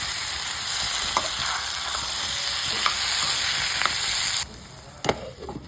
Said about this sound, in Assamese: ফ্ৰাই কৰাৰ পিছত যেতিয়া ভাজা হ'ব এইখিনি ভালদৰে